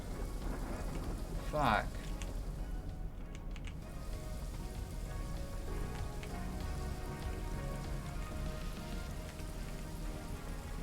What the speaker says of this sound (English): Why must it rain on me?